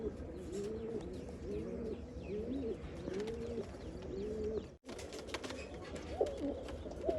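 Punnu-bloodline pigeons coo in repeated soft, rolling phrases close by, with a brief break midway before the cooing resumes alongside faint chirps.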